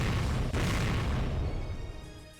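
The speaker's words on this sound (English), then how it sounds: "A roar and explosion sounded at the same time." A heavy boom from a shotgun blast tearing through a door in the Higurashi video game, a single loud explosive hit at the start that rumbles and slowly fades out.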